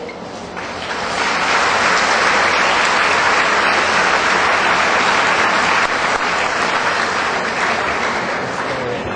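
An audience at a diploma ceremony for an honorary Doctor of Humanities breaks into sustained applause, swelling within the first second into a dense, loud, even roar of many hands clapping that holds steady to the end.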